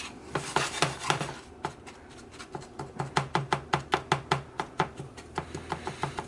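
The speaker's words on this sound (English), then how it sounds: "Don't be afraid to break apart clumps and mix it all together." A honey and sugar mixture is stirred and broken up in a pan over medium-high heat while it toasts and caramelizes, giving a steady run of close, sharp scraping and tapping strokes in an even rhythm with no talk.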